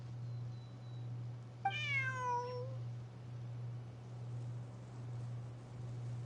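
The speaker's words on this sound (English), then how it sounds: "Bonnie is Pierre's cat." A single clear cat meow from the Genshin Impact video game, rising and then falling over about a second, set against a steady low background hum with no speech.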